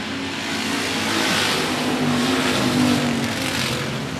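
Factory stock race cars roar around the 105 Speedway oval during a heat race, a loud steady engine drone that swells and recedes as the pack passes, with no talk.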